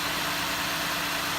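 A car engine idles smoothly after its throttle body has been cleaned, a steady even hum with no surges, alone.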